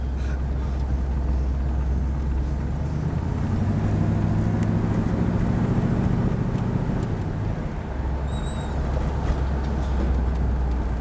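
A 1964 Buick Wildcat with a 425 Nailhead engine rolls past FedEx trucks, giving a loud, sustained engine and road rumble that swells in the middle and eases toward the end, with no talk.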